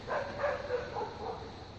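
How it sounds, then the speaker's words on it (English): Dogs bark faintly in the distance, a few quick woofs in a short burst under a quiet background. "I don't know if you can hear those dogs barking behind me."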